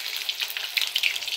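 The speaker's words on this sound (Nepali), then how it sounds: "यहाँनिर कुखुरा मासु फ्राई हुँदैछ" Chicken meat fries in a pan with ginger, garlic and spices, making a close, crackling sizzle with bursts of sharp pops over a steady hiss.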